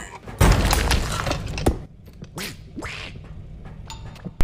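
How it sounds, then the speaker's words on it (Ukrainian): Cartoonish duck quacks from the video game R.E.P.O. as the duck attacks the player, amid sharp crashing and thudding hits, with bursts of impact noise and a few squawky calls. "Мене, мене качка їсть!"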